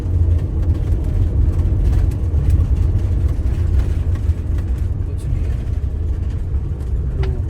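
A car driving along a scenic New Zealand highway between Queenstown and Waiau, heard from inside as a steady, loud low engine and road rumble that continues without a break, with no talk over it.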